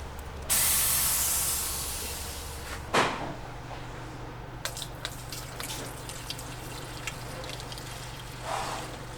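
A close, sustained hiss of chemical spraying from a pumped-up pump sprayer, loud at first and gradually fading, followed by a sharp knock and quiet rustling.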